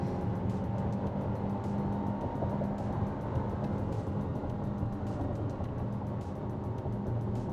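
A 2025 Audi Q7 with a 2-liter turbocharged engine under full acceleration, a steady loud engine drone heard from inside the cabin that holds for several seconds with no talking.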